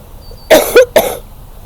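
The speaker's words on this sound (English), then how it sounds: "I probably shouldn't laugh because it makes me cough." Two sharp coughs close to the microphone, one right after the other, then a quiet pause.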